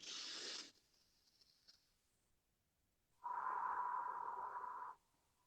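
Slow breathing demonstrated to ease anxiety: a short, sharp hissing inhale, a pause, then a longer, steadier breathy exhale lasting nearly two seconds, close and alone.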